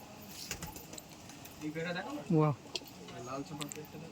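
A Giribaz pigeon coos a few times up close while a person talks quietly and small clinks sound in the background.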